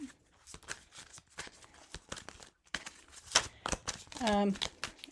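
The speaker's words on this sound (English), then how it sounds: "I'm shuffling off camera." Tarot cards are shuffled by hand in quick, crisp riffles and snaps, close and moderately loud, followed by a brief rising whir near the end.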